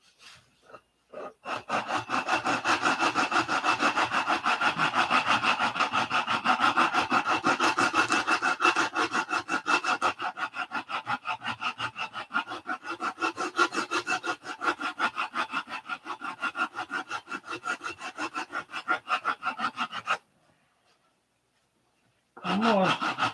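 Coarse 80-grit sandpaper rubs hard across wood in long, rapid back-and-forth strokes, close and raspy, running steadily for about twenty seconds before stopping, then a short final scrape.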